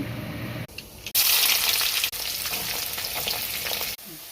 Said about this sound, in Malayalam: ഒഴിച്ച് കടുക് പൊട്ടിച്ച് വരട്ടിയെടുക്കാം.